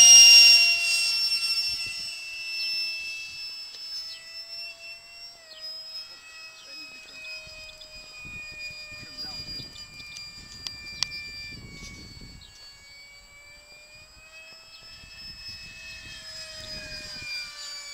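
A Banana Hobby 70mm F18 RC jet passes overhead outdoors with a high, whining ducted-fan scream. It is loudest at first, then fades and drifts in pitch as it moves away, and swells again near the end.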